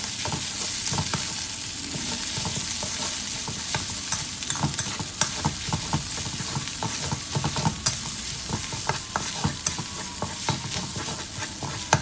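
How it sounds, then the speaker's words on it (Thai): Curry paste stir-fried in hot oil in a pan for a chili sauce to pour over fried fish gives a steady, close sizzle, with frequent sharp clicks and scrapes from stirring throughout. "ใส่น้ำมันลงไปตามด้วยพริกแกงครับ ผัดพริกแกงให้ส่งกลิ่นหอมนะครับ"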